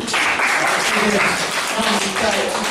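A seminar audience applauding two guests, a lawyer and a woman, with dense, steady clapping throughout, loud and close.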